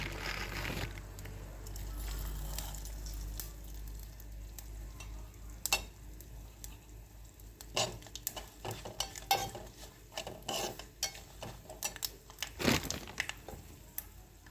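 Mustard seeds crackling in hot oil with grated coconut in a pan, a soft sizzle broken by scattered sharp pops and scraping stirs that grow busier toward the end.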